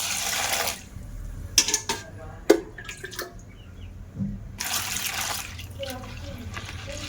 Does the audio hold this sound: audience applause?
no